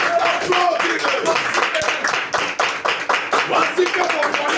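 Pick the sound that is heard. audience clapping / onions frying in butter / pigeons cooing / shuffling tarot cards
audience clapping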